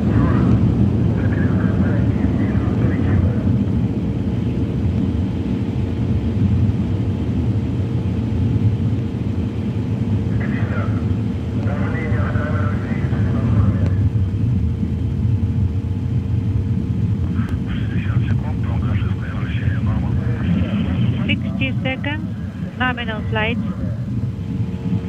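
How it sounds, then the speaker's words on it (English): Soyuz TMA-10M rocket first-stage engines and four boosters burn liquid fuel during launch, a continuous deep, loud roar that persists throughout while a commentator talks over it. "The Soyuz delivering 102 tons of thrust from its four boosters and single engine."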